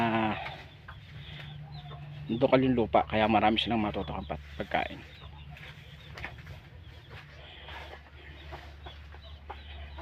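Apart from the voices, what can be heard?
chickens clucking on a small farm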